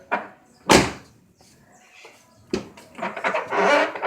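Car door on a VW Voyage/Gol G5 with a noise fault being opened and shut: a loud sharp slam, a second clunk, then a rattling, creaking stretch of door movement, close by.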